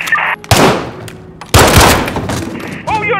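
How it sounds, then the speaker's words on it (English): Bursts of gunfire in Call of Duty Modern Warfare during a police hostage standoff: a short crack, then two loud rapid volleys close by, followed by a brief radio-like electronic chirp. "Shots fired."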